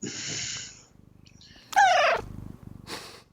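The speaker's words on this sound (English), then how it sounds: "My kitty was talking." A house cat purrs in a low rhythmic rumble and lets out a loud, drawn-out meow up close, with short hissy breaths between.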